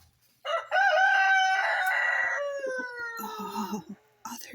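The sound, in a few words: chickens clucking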